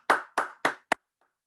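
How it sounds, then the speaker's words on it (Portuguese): Applause at a pitch workshop comes through as four sharp, evenly spaced hand claps, close and isolated, with the last one shorter and then silence. "Uma salva de palmas para vocês."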